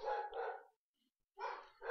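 Dogs bark in the Minecraft mod Pixelmon, two bursts of loud, close barking separated by a short silence, with no talk over them.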